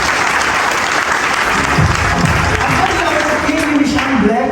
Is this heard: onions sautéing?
no